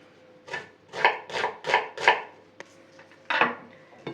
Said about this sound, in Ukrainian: Перше я наріжу цибулю і поставлю тушкувати.